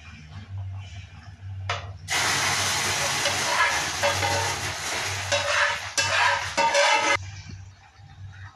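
Burnt sugar caramel poured into hot pumpkin pudding, a loud sudden hissing burst of steam lasting several seconds, with a low hum before and after.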